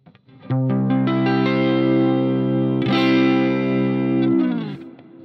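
Electric guitar strums one sustained chord rooted on the sixth string through effects with chorus and reverb, ringing steadily for about four seconds before fading.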